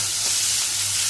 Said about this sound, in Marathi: आनी हो चडूय फ्राय करप ना, कितलो तो तुमकां दाखयता।